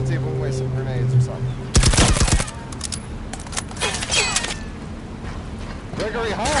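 Gunfire in the tactical shooter Firewall Zero Hour, heard as a dense burst of rapid shots lasting under a second, then scattered softer pops and game noise, with players talking over the action.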